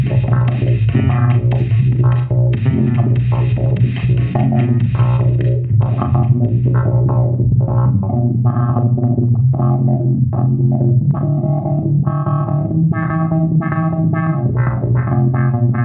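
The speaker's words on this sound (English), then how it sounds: "There's some really weird modulation this thing can do. We can choose sine wave" Electric guitar played through a modulation effects pedal set to a sine or sawtooth waveform, giving a loud, dense, distorted and warbling tone that sustains throughout with rhythmic strummed accents and no voices.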